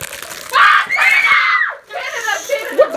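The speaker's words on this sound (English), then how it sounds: "Guys, can you stop screaming?" Children scream loudly indoors, with shrill overlapping shrieks rising and falling and brief gaps, some childish chatter and giggling mixed in.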